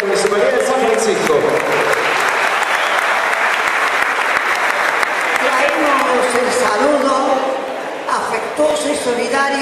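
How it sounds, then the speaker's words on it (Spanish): An audience at the 65th anniversary celebration of Club Antártida Argentina in San Francisco bursts into loud, sustained applause with dense clapping that tapers slightly near the end, and voices are heard among it. "Fuerte el aplauso entonces para la gente de la Municipalidad de San Francisco."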